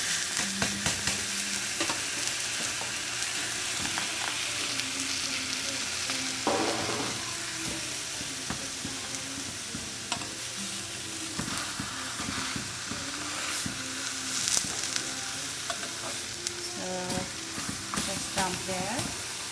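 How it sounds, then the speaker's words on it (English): Frozen pork frying in a Salad Master electric skillet, a continuous close sizzle with crackles and repeated stirring and scraping, some faint background voice and tonal sounds underneath. "So what we're gonna do is fry a little bit to defrost."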